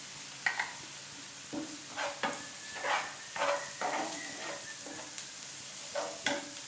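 Ginger paste with turmeric and salt frying in a pan, a soft continuous sizzle broken by repeated scraping stirs that come in uneven bursts.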